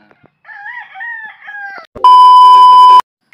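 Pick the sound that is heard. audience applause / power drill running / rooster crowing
rooster crowing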